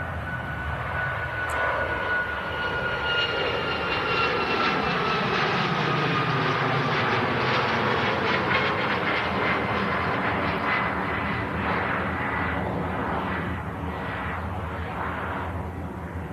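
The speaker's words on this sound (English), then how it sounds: "Ryanair climbs out." A Ryanair jet airliner climbs out after takeoff, its engine roar loud and steady throughout, a broad sustained rumble with a slowly shifting whine that holds near constant without any voices.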